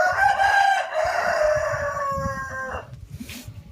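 A rooster crows loudly and close at a rural poultry enclosure, one long drawn-out call that fades near the end, with faint clucking and farmyard noise beneath.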